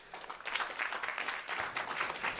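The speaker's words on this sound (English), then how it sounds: "Round of applause, please." A crowd at a panel discussion on food security claps, a dense, even wash of applause that builds quickly and holds steady, with no speech over it.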